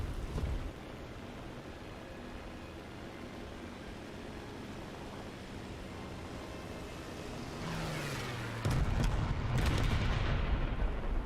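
An anti-aircraft gun fires in the combat game War Thunder: a steady vehicle engine rumble runs throughout, then a single loud, sharp blast hits near the end and leaves noisy rumbling behind it.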